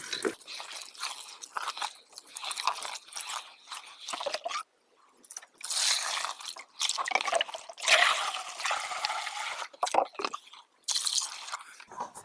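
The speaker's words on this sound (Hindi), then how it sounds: "इस गुड़ को हमने 2 किलो लिया और इसे अच्छी तरह से पानी में घोल करके हम मिलाते हैं" Two kilograms of jaggery are stirred with a wooden stick and dissolved in water for jeevamrut organic fertilizer, giving close, irregular wet sloshing, dripping and gritty scraping with brief pauses and no speech.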